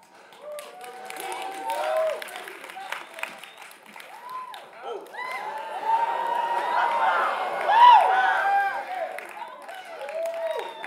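An audience at a community talk event claps and cheers, with whoops and shouting voices rising and falling over the applause and swelling to a peak partway through.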